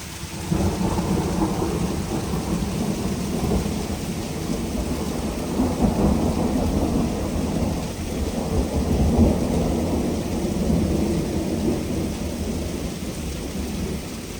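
Heavy rain pours steadily in a Kansas thunderstorm while deep thunder rumbles and rolls throughout, loud and continuous with no one speaking.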